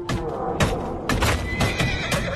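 A loud horse whinny in Assassin's Creed Origins rings out, followed by further neighing and snorts, close and clear, with faint hoof clatter.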